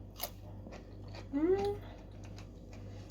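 Homemade fermented pickled cucumbers crunch briefly at close range, with a short burst of crisp biting in the middle and faint clicks around it over a low steady hum.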